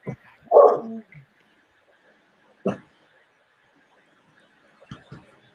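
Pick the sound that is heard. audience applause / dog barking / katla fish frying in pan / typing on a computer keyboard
dog barking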